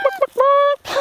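A person imitates goose-like poultry honking in a farmyard, giving two short nasal honks and then one longer sustained honk, close and clear.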